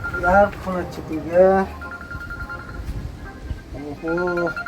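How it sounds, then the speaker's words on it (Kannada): A phone ringtone plays in repeated melodic bursts at close range, alternating with higher beeping tones, loud and clear with brief pauses between phrases. "ಯಾರು ಫೋನ್ ಹಚ್ಚಿದ್ದೀಗ?"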